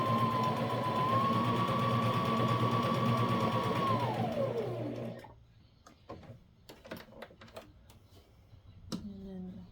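Sewing machine running a steady straight stitch on a wool diaper cover for about four seconds, its motor whine ramping down, followed by quieter clicks and handling of the fabric.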